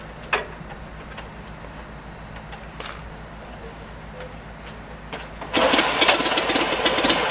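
A Honda CA77 Dream motorcycle engine is kick-started. Quiet background noise gives way to the engine suddenly catching near the end and running loud and close.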